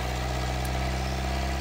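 A Ford diesel car engine held at raised revs of around 2,000 rpm during intake cleaning, a steady close droning hum with no change in pitch and no voices.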